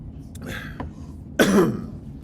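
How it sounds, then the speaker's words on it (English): A single harsh throat clearing, close and fairly loud, preceded by a few faint breathy sounds in a quiet room. "I can't clear my throat."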